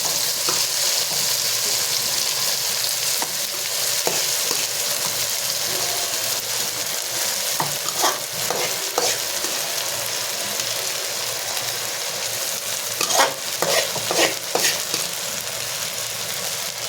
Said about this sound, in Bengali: একটু ভাজা ভাজা হবে, এটা একটু ভালো করে ভেজে নেব।